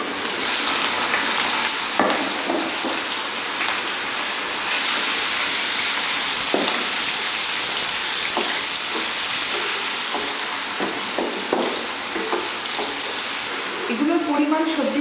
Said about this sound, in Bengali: আচ্ছা, তাহলে আমরা এবারে কি আলুগুলো ভেজে নিচ্ছি?